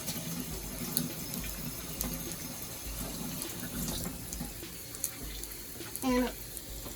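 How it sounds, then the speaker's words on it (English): Water poured into a hot pan of frying dumplings gives a steady, close hiss and rush that runs for several seconds, with a brief louder burst near the end. "you're going to pour the water in, and then you're going to cover it immediately"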